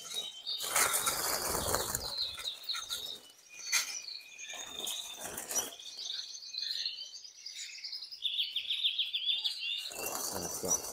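Agate canaries chirp and tweet in quick, bright bursts throughout, with rustling and fluttering noises in between, fairly close and steady.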